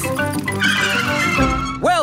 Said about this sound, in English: Brakes! Oh, yes, brakes!